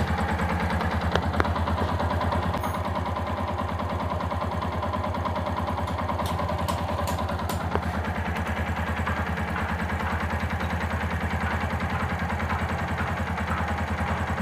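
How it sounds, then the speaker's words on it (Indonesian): A Yamaha Jupiter MX motorcycle engine running on Castrol Power 1 Ultimate oil idles steadily and close by, a continuous even hum with faint mechanical ticking and no voices over it. "Inilah suara mesin setelah menggunakan oli Castrol Power One Ultimate di Jupiter Mag yang punya saya."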